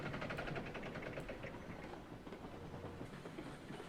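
A train rolls steadily in the RailRoads Online railway game, a continuous low rumble with rhythmic clickety-clack and faint mechanical rattling at a constant close level, with no one talking.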